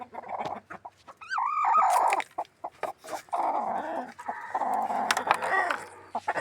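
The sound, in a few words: chicken clucking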